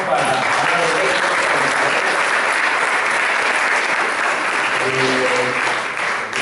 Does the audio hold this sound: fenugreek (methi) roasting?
no